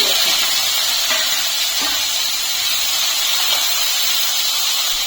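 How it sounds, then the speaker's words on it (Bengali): Whole garam masala (cardamom, cloves, cinnamon and a few black peppercorns) dropped into hot oil in a kadai, giving a steady, loud, close hiss and crackle of sizzling throughout, with no talk. "এখন ফোড়নে দিয়ে দিচ্ছি গোটা গরম মশলা, এলাচ, লবঙ্গ, দারচিনি আর 2-4টে গোলমরিচ"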